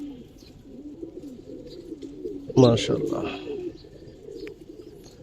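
Pigeons on a Bangladeshi farm keeping coloured red-eyed birds, soft low cooing murmuring in the background with a brief louder flutter or call near the middle, while someone speaks a short exclamation.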